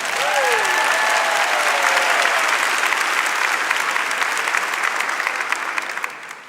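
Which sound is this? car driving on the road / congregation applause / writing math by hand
congregation applause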